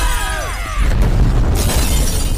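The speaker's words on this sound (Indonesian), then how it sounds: "Dan bom meledak keras tanpa korban jiwa" A bomb goes off in an Indian film scene, a loud shattering blast with a burst of breaking debris that drowns out the preceding music and lingers as a heavy rumble.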